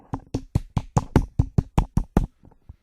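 About ten sharp hand claps in a steady, quick rhythm, each crisp and close, ending with a couple of softer, scattered claps.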